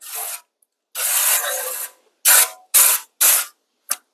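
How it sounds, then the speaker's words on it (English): Avocado oil cooking spray hisses from a can onto a pan for a fajita pasta casserole, in several close, loud bursts: two longer sprays, then three short ones and a final quick puff. "We've got our avocado spray."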